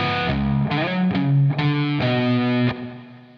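Repeating motif on a distorted electric guitar with an effects unit, a few punchy chord stabs and sustained notes, loud and close, played alone without speech.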